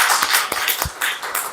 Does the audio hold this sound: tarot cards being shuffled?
no